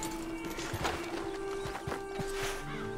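Horse hooves clip-clopping in the Red Dead Online video game, a steady run of soft hoofbeats at moderate loudness over a constant game background tone, with no talking.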